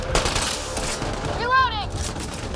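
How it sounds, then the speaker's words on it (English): Sniper rifle fitted with a laser beam augmentation firing in Mass Effect: Andromeda, a dense run of rapid machine-gun-like bursts with a rising-and-falling laser whine in the middle, loud over game noise. "The sniper rifle with a laser beam augmentation sounds like a machine gun."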